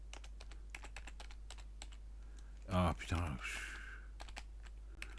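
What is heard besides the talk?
typing on a computer keyboard in the dark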